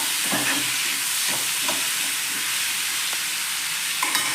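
Tomatoes fry in a pan with a loud, steady sizzle while a spoon stirs them, scraping and clinking against the pan every second or so, with no talking.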